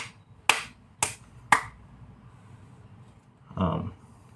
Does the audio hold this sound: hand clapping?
yes